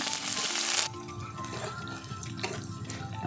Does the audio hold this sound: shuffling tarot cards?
no